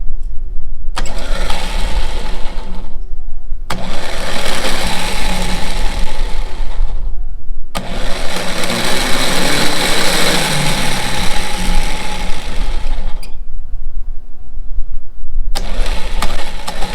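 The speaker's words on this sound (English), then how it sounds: "Typical Chrysler starter, sounds like it's crushing gravel" A Chrysler starter motor cranks an engine in several long bursts separated by short silences, a loud, harsh grinding whir that sounds rough and gravelly, with no voices.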